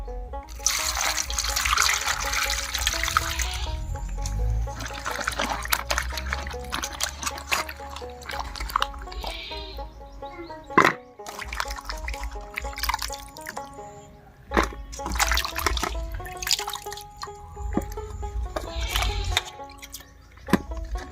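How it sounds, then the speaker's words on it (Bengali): Cut flat beans being washed by hand in a bowl of water, with repeated splashes, drips and trickles in irregular bursts plus occasional knocks against the container, close up and with no speech. "সিমটা কাটা হয়ে গেল, এবারে ধুয়ে নিচ্ছি।"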